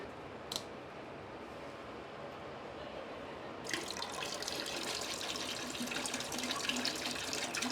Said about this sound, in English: Going to need to add just a tad of water.